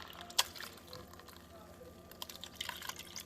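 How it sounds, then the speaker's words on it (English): Whey from homemade mozzarella curds runs through a strainer, producing soft trickling, dripping and wet splashing with a few sharper drips, while people talk quietly in the background. "Now we're going to pour that over a strainer to catch the curds. And the whey will separate through the strainer."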